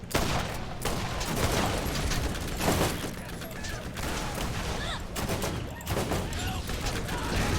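Rapid bursts of gunfire from the video game Borderlands, dense overlapping shots and explosions in loud sustained volleys with brief pauses, while a player talks over the action.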